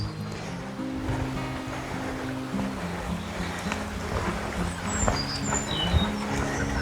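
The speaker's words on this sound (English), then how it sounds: "running to the left of us, but I can't see it, is a Blockley Brook" Blockley Brook running close by on a village lane walk, a steady low water rush that sits under the whole stretch with no one speaking.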